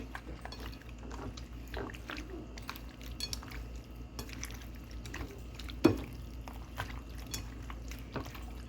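A spoon scrapes and clinks against a pot while stirring chili powder into a squid curry, soft intermittent taps and scrapes over a low background hum, with one sharper knock midway.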